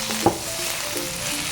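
Garlic fries in oil in a heated pan, a brief, steady low sizzle close by with a faint tick near the start.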